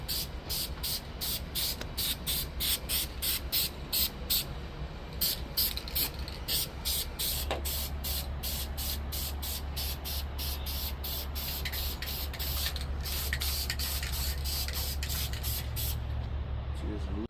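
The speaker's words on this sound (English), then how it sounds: "just like that, she's nice and spray painted" Aerosol spray paint hisses in repeated close, loud bursts across a part from a 1991 Honda CRX Si, coating it inside and out, with a steady low hum underneath.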